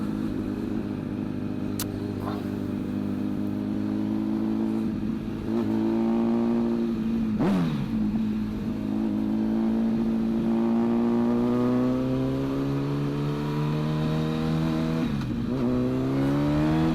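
A litre-class Britva motorcycle ridden by a stunt rider, its engine revving and holding steady harmonic drones that rise and fall through gear changes, loud and continuous with no talk.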